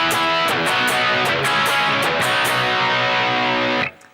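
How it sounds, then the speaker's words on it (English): Distorted electric guitar plays the guitar break alone, loud and steady, with chopped chords and sharp percussive accents before the sound stops abruptly near the end. "and that guitar break sounds like this."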